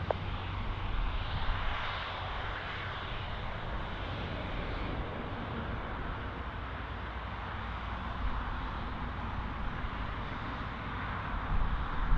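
An easyJet airliner lines up on runway 27 at Bristol Airport, its engines giving a steady, fairly close broadband roar that holds level throughout with no voices over it.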